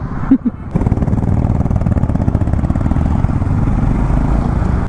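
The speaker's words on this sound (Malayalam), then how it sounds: "ഈ ഫ്രണ്ടിൽ കാണുന്നത് ഒരു Z900 ആണ്. ഒരു ആഫ്റ്റർ മാർക്കറ്റ് എക്സോസ്റ്റ് ഒക്കെ ഉണ്ട്. നല്ല ഒരു സൗണ്ടായിരുന്നു." A Kawasaki Z900 motorcycle with an aftermarket exhaust idles loud and close, a steady deep rumbling throb that holds for several seconds after a brief quieter start.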